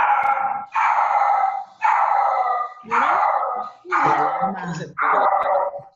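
A dog yelps and howls repeatedly, loud and fairly close, in a string of drawn-out cries separated by short gaps.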